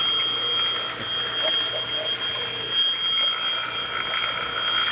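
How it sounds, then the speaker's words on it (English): A steady electronic alarm-like ringing from a cathode ray tube with a blown filament holds for the whole stretch, moderately loud, with a faint background hum and no talking. "Sounds like a fire alarm."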